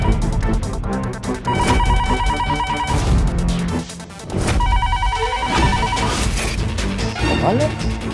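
A home telephone rings unanswered in a house, with two loud bursts of electronic ringing separated by a brief crash and pause. Background music and noise sit underneath.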